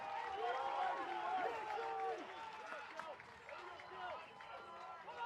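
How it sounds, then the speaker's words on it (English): A broad crowd roar rises from the stands at a college men's lacrosse championship game between UMass and Towson, sustained and fairly distant beneath a commentator talking throughout. "Crowd erupts on the UMass side."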